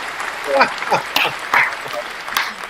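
Brief scattered hand claps from a small group during a business interview, mixed with a few spoken words, with no sustained ovation.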